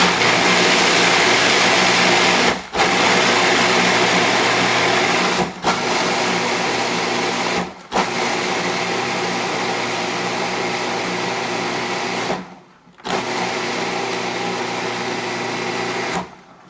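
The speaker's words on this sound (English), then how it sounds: "almonds, blanched, and 1/3 cup of sugar. And I'm going to blend these together." A blender grinds blanched almonds with a third cup of sugar, a steady loud whirring motor run in several bursts with brief pauses between, no talking.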